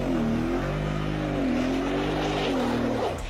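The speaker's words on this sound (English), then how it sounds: "Let's activate all locking differentials and give a full throttle." A Mercedes G63 at full throttle with all locking differentials engaged, climbing a snowy hill: a loud, steady, close engine roar whose pitch wavers and rises as the wheels slip.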